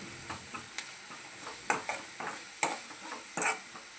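Raw mango and onion are stirred in a frying pan, with a soft sizzle beneath and several sharp scrapes and clinks of the spoon against the pan at irregular intervals.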